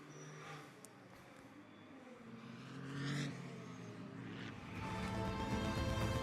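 GT2 race cars on a formation lap at Misano rumble and whir at a distance, engines rising and passing in a few swells, fairly faint and without talk.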